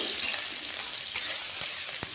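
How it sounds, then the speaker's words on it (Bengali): Potatoes sizzle in hot oil with cumin in a pan, a steady close frying hiss, with a few light stirring scrapes and no voices. "একটু ভাজা করে নেব"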